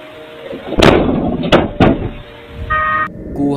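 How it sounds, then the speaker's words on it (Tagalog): A door bangs on security camera footage: one loud slam followed by two sharper knocking bangs, each with a booming low thud, in an otherwise quiet room, with a faint electronic tone near the end. "Kuhang-kuha rin sa video ang pagkalabog ng pintuan kahit wala naman tao sa lugar."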